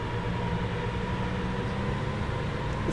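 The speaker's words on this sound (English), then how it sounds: "This train is pretty loud though, to be fair." A train running in Train Simulator 2022 on the Fife Circle Line, a loud steady rumbling drone with a constant low hum and hiss, continuous and unchanging with no talk.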